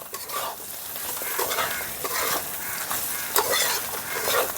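Fried spices are stirred into katla fish head in a pan, giving a continuous sizzle. Repeated scraping strokes of the spatula run through it, with no voices.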